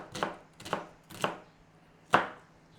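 A red onion chopped with a knife on a board: four sharp, close chops, three in a quick even rhythm and then one harder chop after a short pause, with no talking.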